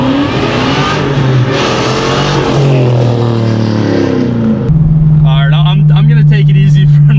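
A supercharged 500+ whp Dodge Challenger R/T accelerates hard, its engine roaring and climbing loudly in pitch, then shifting, with a person's excited voice over the engine.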